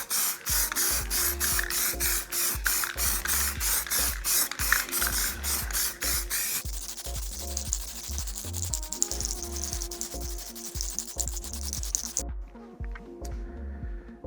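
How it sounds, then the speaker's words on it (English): A can of Smash Metal metallic base coat spray paint, used for custom painting a helmet, is shaken hard, giving a loud, fast, regular rattle of the mixing ball. The rattling runs steadily for several seconds, then a hissing spray takes over. "make sure you give your cans a really good shake"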